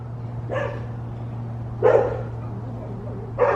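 A dog barks in three short, sharp bursts spaced out over a steady low hum, fairly close and with no talk.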